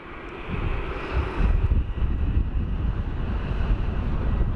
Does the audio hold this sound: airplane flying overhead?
yes